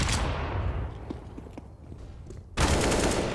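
Gunfire in a Counter-Strike match at a professional esports tournament, a loud burst of shots that fades into scattered quieter cracks, then another loud burst to finish.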